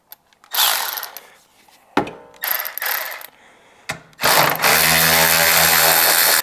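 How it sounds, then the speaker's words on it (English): Milwaukee cordless power ratchet with an 8mm socket running in reverse to remove a bolt, several short whirring bursts separated by gaps, ending in a longer, loud, close buzzing run. "I'm going to use my Milwaukee ratchet with an 8 and put it in reverse this time."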